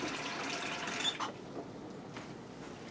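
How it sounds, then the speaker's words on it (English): Cold tap water pours into a Ninja Foodi pot over pasta for pressure cooking, a steady close splashing fill that stops abruptly partway through, leaving a faint quiet background. "I'm going to add in some water, because you need water to pressure cook"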